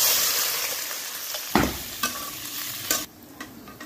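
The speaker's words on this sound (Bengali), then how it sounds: "তেল গরম হয়েছে, এখন আমি ফেঁচে দিলাম।" Onion hits hot oil in a wok with a bright, steady sizzle, interrupted by a few sharp scrapes and clanks of a spatula stirring, close and fairly loud with no talk.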